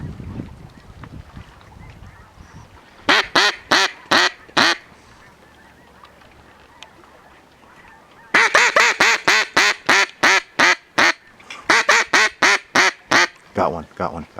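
Ducks quack out in the open during a duck hunt, coming in loud rhythmic bursts of rapid calls that repeat in several runs over faint outdoor background.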